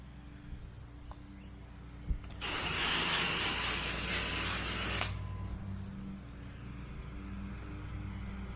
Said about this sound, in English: I'm gonna spray them windows for him, help him out.